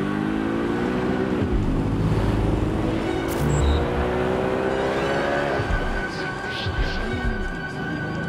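Car engine drones and shifts pitch steadily while driving through a city in Watch Dogs: Legion, loud and continuous with a game music bed and occasional talk over it.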